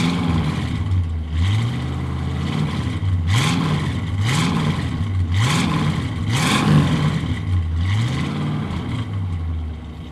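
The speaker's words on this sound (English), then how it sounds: "The Pontiac V8 has a relatively unique exhaust note with a very deep rumble" A 1965 Pontiac GTO V8 engine with a deep exhaust rumble through stock manifolds and mufflers revs up and down repeatedly in a steady rhythm, loud and close.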